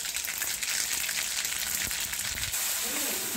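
Mustard seeds crackle in hot oil in a kadhai, a steady close sizzling hiss peppered with tiny pops, continuous and fairly loud, with no talking over it.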